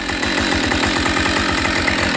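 A Husqvarna 572 XP chainsaw runs loud and close, its engine holding a steady high-revving buzz with a rapid pulsing rattle throughout.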